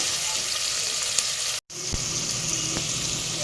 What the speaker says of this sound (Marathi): आता आपण चांगलं भाजलं पाहिजे